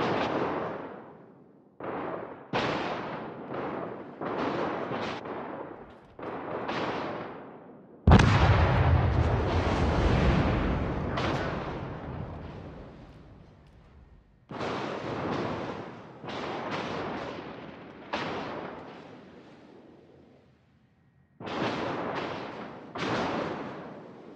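Naval guns of a destroyer firing in World of Warships, a long series of loud booming salvos with ringing decays, one huge blast in the middle rumbling for several seconds, no talk.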